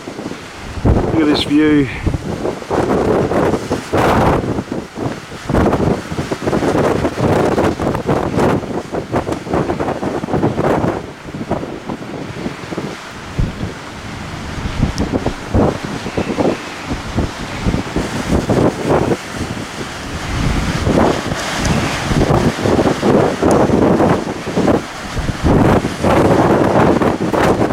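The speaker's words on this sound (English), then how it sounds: "That wind is pretty crazy." Strong wind roars steadily across the microphone on a high section of Warren Gorge in the Flinders Ranges, loud and constant with gusty surges, while someone speaks briefly over it.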